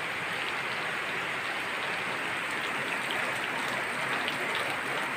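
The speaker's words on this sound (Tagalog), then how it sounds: "Ayan, ulan na naman." Steady rain falls in a dense, unbroken hiss that stays even and fairly loud throughout, with fine drops pattering on nearby surfaces and no talking.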